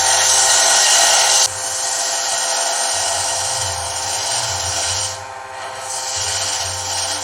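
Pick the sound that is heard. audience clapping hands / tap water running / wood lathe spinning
wood lathe spinning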